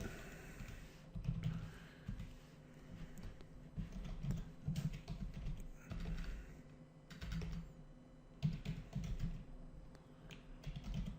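Code being typed on a computer keyboard: a quiet, steady run of clustered key clicks with brief pauses between bursts, close up and soft, with no voices.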